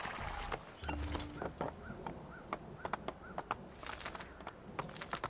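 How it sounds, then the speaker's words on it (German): Horse hooves clip-clopping at a walking pace during riding in the video game Assassin's Creed 2, a quiet run of evenly spaced hoofbeats with light ambient game sound behind them. "So, wir sollen ein Pferd reiten."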